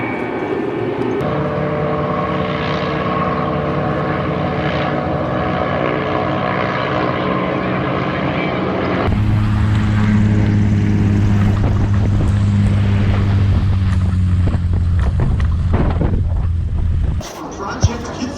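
Kitfox light aircraft racing at a STOL drag race in Reno, propeller engine droning steadily and loud, rising to a deeper, closer roar midway as planes pass, with a voice talking over the engine noise.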